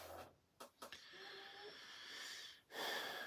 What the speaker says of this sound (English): I have a whistling pug. It's kind of like a snore, but it's also like a whistle.